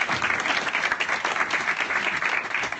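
A live audience in Australia breaks into a short, steady burst of applause, dense clapping with no talking.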